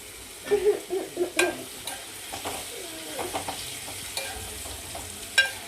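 A tempering of crushed onions fries in a pan for homemade mint roti chutney, with soft sizzling broken by a run of scraping stirs and occasional clinks of the spoon, close and moderately quiet.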